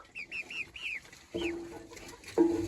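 A newly bought grey hen near a homemade chicken coop makes a quick run of short, high clucks, then two louder, lower clucks. It sounds close and clear against a quiet yard.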